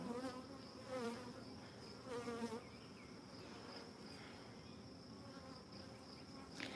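Honey bees crowd a brood frame, mostly young nurse bees, as it is lifted and moved to another hive; a dense, close buzzing hum runs steadily throughout with slight swells.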